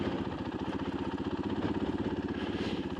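A 2024 KTM EXC-F 500 dirt bike engine runs in snow with a steady, rapid pulsing thump, close and even, like a single-cylinder idle throbbing without pause.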